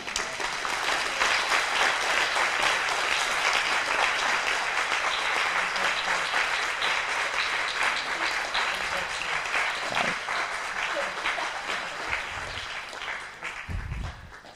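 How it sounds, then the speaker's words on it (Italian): A large audience applauds at a Catholic Action convention in Trentino, a long, steady wash of clapping that thins slightly toward the end with a few louder claps standing out. "Glielo facciamo un applauso per favore"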